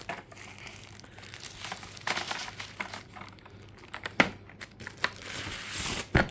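Plastic wrapping is torn and crinkled off the box of an 8BitDo Retro 108 mechanical keyboard, close-up, with irregular crackling rustles and a few sharp ripping bursts.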